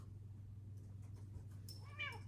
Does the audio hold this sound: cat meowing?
yes